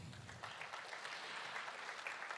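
An audience applauds at an Oppo Reno 3 Pro launch event, a steady wash of distant clapping that stays faint and even for a couple of seconds.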